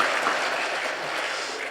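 A church congregation at a Sunday service applauds to welcome members who are fasting, a dense, even clatter of many hands that stays steady for a short burst.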